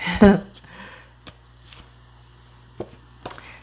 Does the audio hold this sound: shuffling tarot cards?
yes